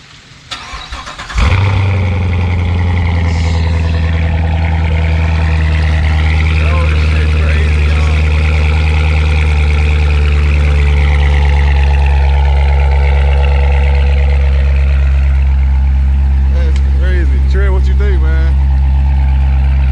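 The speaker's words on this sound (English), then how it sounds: "I'm gonna give y'all a cold start." A car engine cold-starts with a sharp crank and catch, then settles into a loud, deep, steady idle rumble that stays close. A voice talks over the running engine.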